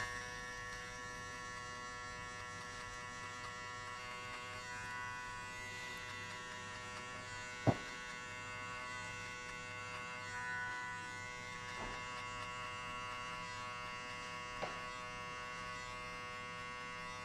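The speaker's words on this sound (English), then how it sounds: "What I'm going to do, close the clipper halfway and hit only on this line." An electric hair clipper buzzes steadily and faintly while cutting a high skin fade, a continuous thin hum with a few sharp clicks.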